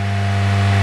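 A 2005 Honda CR-V engine holds a steady, loud drone at raised revs during an idle relearn, a brief, even hum with strong low harmonics and a slight upward swell.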